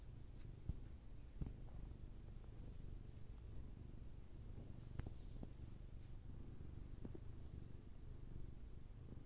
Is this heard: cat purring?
yes